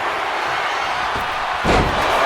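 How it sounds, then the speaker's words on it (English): A WWE video game wrestling match with a Death Valley driver slamming an opponent onto the mat, a heavy thud bursting out of a steady roaring arena crowd near the end. "Death Valley driver. And that took Reigns down."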